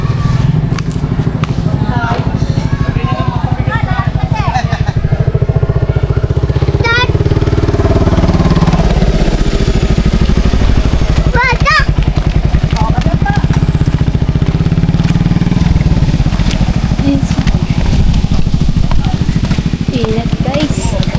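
A motorcycle engine runs close by, a loud low rumble that holds steady the whole time beneath people chatting nearby.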